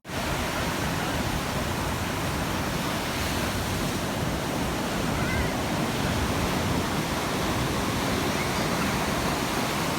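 Steady broadband roar of sea surf washing onto Gyeongpo Beach in Gangneung, continuous and close, with no distinct voices standing out.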